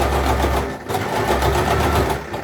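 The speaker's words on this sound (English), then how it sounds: "now we are sewing down to the bottom" Sewing machine stitching down a garment pocket, a steady fast rhythmic whirr running throughout with a brief dip in pace, close and alone.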